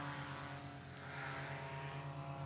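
A paramotor engine runs at full throttle during a slalom competition, a steady, faint propeller drone heard from a distance with no pauses.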